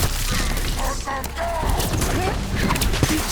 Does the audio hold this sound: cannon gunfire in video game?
yes